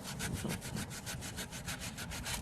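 Rust being scraped from a metal surface inside a vehicle part during ABS repair work, a steady run of quick rasping back-and-forth strokes heard close up with no talk.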